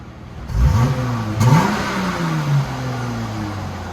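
A car engine revs up hard twice in quick succession, then settles into a steady droning hum with resonator-deleted exhaust tone, close and loud with no talk over it.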